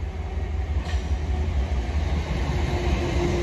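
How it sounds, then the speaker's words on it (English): A train passing close by near Battersea Power Station, a loud steady rumble of wheels and carriages rolling through with a continuous rattling drone. "Oh, train's coming."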